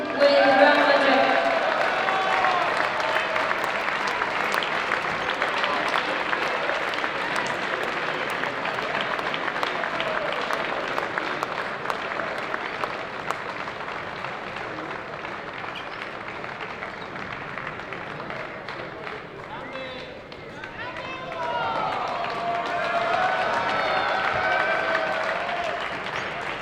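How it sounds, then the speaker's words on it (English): A large arena crowd applauds at length for the MVP of the 2023 ANGT Munich under-18 basketball final, steady sustained clapping with a brief dip near the end before swelling again; an announcer's voice is heard over it. "A big applause, please, for this year's MVP, who is Hugo Gonzalez with Real Madrid."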